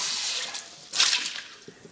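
Tap water runs over a cast iron pan, a soft hiss that swells suddenly midway into a brighter splashing rush, then eases slightly; close and alone, with no voices.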